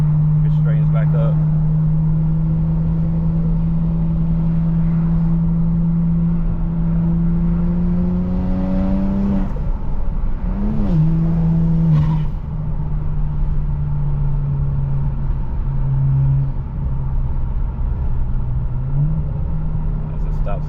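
A BMW 335i with the N54 turbo engine under hard acceleration: a loud, close interior drone whose pitch climbs, breaks off midway, then settles again, with talking inside the car.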